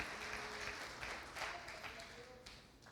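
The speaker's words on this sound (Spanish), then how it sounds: "Dele un aplauso al Señor, adórele a Él." Congregation clapping in a church during a Sunday worship service, a steady wash of applause with faint voices and bits of music mixed in throughout.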